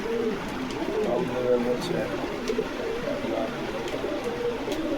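Fancy pigeons at a pigeon farm coo repeatedly in soft, rolling calls while people talk close by.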